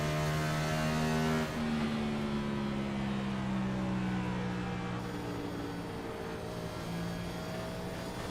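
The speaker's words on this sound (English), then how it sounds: "He is off the throttle for a long time, letting that car roll into the corner." A race car at Iowa Speedway rolls into a corner off throttle, its engine note holding a steady droning tone that shifts and slowly falls in pitch, loud and continuous for several seconds, with no talking.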